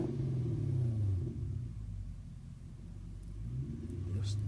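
Lexus car engine rumbling with a low, steady idle and a couple of gentle revs that rise and settle, heard close by.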